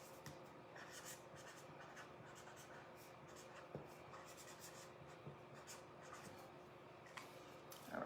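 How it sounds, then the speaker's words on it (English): A Sharpie marker scratches steadily across the back of a craft stencil, a soft continuous rubbing with small taps, faint and close, with no talking. "I'm going to write on the back of it what the stencil is"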